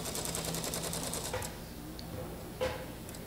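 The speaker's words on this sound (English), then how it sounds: "Okay, let's take a couple of stitches here." Sewing machine taking a few stitches on a quilt seam, a fast light ticking run at the start that stops, then a couple of isolated mechanical clicks in a quiet room.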